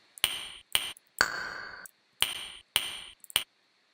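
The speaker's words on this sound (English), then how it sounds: "whatever this is, a little snap kind of thing" A short snap-like percussion hit from a beat, struck six times in an uneven pattern, each dry, bright and crisp with a ringing tonal ping. One longer hit rings out briefly. No other sound plays.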